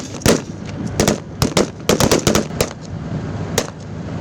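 Army BMP infantry fighting vehicle firing in support during a bunker-clearing drill: a dozen or so sharp, loud bursts in irregular clusters, some in rapid pairs and short strings, over steady background rumble with no talk.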